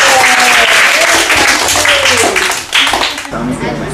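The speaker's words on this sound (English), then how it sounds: "A round of applause to the kids" A group applauds the kids, loud clapping mixed with cheering and voices, with a brief dip before the clapping resumes.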